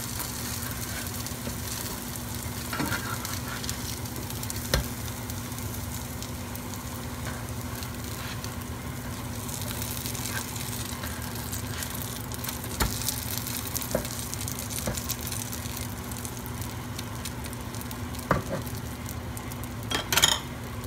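Fish cakes fry in a pan, a steady low sizzle running throughout with occasional soft clicks and taps as they are flipped, moderately quiet and with no voices.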